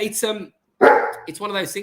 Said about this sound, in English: very adolescent Great Dane in the background shouting at me. So apologies if you hear a bit of barking.